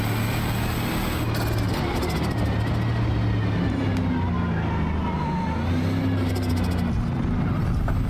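Turbocharged race car in Forza Motorsport, engine droning loud and close with rising and falling revs and a few brief fluttering bursts as the turbo vents, no talking.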